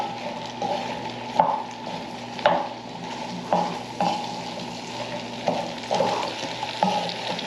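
Potatoes are stirred in a bowl to coat them, a spoon scraping and knocking in a steady rhythm of about a dozen distinct strokes, close and clear over a low background hum.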